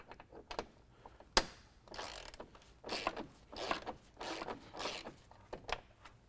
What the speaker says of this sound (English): we have an 8mm bolt that we need to remove